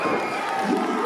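Wrestling crowd at a CCW event roaring and cheering a new champion, a dense, steady wall of voices with no pauses, loud and close throughout.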